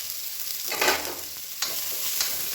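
Onions sizzle lightly in hot oil as they are stirred for a breakfast porridge, a soft steady frying hiss with a few brief scraping stirs, close and with no talking.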